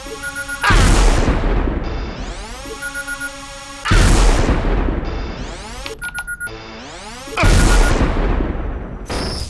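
A sniper rifle in the game Unreal Tournament fires three loud, heavy blasts a few seconds apart, each with a long booming decay and electronic whine between shots.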